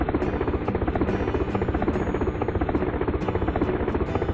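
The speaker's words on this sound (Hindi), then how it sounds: "चौथे दिन समुद्र के पास एक हेलीकॉप्टर की आवाज सुनाई देती है।" A helicopter flies near the sea with a loud, continuous rotor chop that stays steady and close throughout, with no voices.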